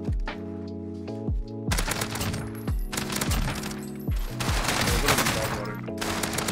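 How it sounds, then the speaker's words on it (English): Gunfire rings out in Call of Duty on Rebirth Island as players shoot each other: a string of sharp, punchy shots in quick bursts and single cracks, loud and close, over a steady tonal game background. "They're shooting each other"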